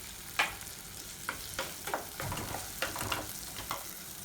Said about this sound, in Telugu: టమాటా మెత్తపడే వరకు వేయించాలి.